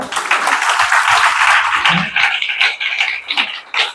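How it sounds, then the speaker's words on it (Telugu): Church congregation applauding at a fasting prayer service, a dense burst of many hands clapping that swells and fades over a few seconds, with faint murmuring voices beneath. "చప్పట్లు కొట్టరా?"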